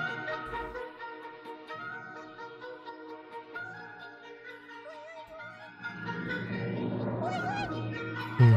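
A cartoon kitten in the Soviet animation Kitten Named Woof, afraid of a thunderstorm, meows in drawn-out, wavering cries over soft background music, and rain or rumbling noise builds toward the end.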